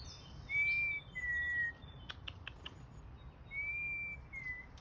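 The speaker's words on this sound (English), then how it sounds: "Got some more birds there." Clear whistled bird calls in a spring garden in the UK, two-note phrases repeated, with a few short chirps between, fairly close against a quiet background.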